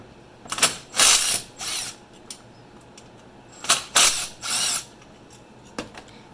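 A ratchet works bolts loose on a Nissan 350Z during an idler pulley delete, with two pairs of quick, close clicking bursts separated by short pauses.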